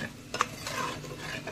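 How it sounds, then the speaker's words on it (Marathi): Sabudana (tapioca pearls) is gently stirred in a frying pan, a soft brief scrape with a light tap of the spoon over a faint, steady sizzle, close and quiet. "मग त्याच्यामध्ये अशी साबुदाणे टाकायचे आणि अलगद हलवायचं"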